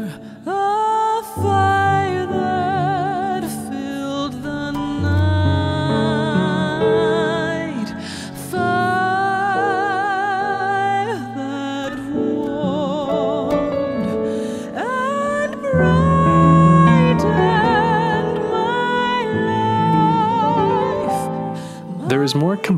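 Orchestral character-theme phrase from the Final Fantasy XVI video game score, with a hopeful resolution: layered strings and melodic lines swell and shift through several chords, rich and full throughout.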